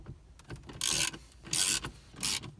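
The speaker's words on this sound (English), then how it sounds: "And then you have to take out these two bolts. These are 7 mil." Two 7 mm bolts are backed out of a 1999-2004 Mustang dash, heard as three short, close bursts of ratcheting or scraping between quiet pauses.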